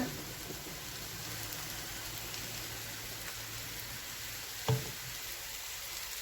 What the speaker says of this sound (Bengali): তো খিচুড়িটা ভাজা হচ্ছে